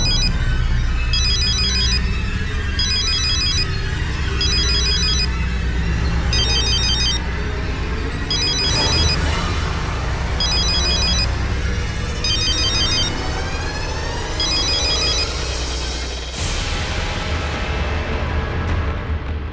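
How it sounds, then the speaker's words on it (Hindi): A telephone rings repeatedly in regular electronic bursts, about every two seconds, over a dense, loud dramatic music and ambience bed. "मैं अभी सीमा जी को फोन करता हूं"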